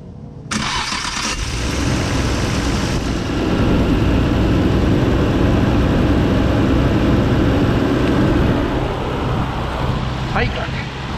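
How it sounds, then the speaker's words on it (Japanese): Fuel-injected car engine cranks and catches after a fuel filter replacement, then settles into a steady, loud idle close by, holding for several seconds with no talk over it. "じゃあエンジンかけます。"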